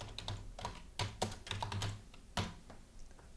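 A name being typed on a computer keyboard, quick uneven clusters of faint close key clicks with short pauses between them, with no talk.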